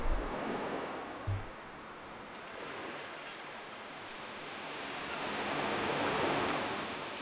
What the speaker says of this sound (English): relaxing beach inspired ambient sound with a mix of gentle waves, seagulls, warm sunny texture